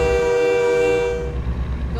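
A train at a railway crossing sounds a loud, sustained horn close by, holding for about a second before fading into the low rumble of the moving train.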